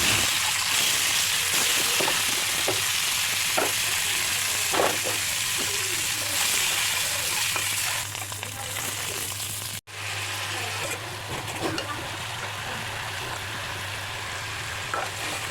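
Three eggs cooking in a hot pan, a dense, continuous frying hiss with scattered soft scrapes of stirring, fairly loud and close, briefly cutting out partway before resuming.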